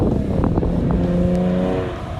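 A 2018 Chevrolet Camaro drives a slow warm-up lap on a race track, a loud steady engine drone heard from inside the car with brief flapping noises, easing off slightly at the end.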